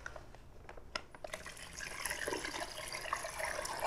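Water pours steadily into a brine being prepared for roasting a whole pig over embers, starting after a few faint clinks and building into a continuous close splashing fill.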